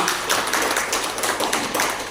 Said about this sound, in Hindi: एक बार जोरदार तालियां हो जानी चाहिए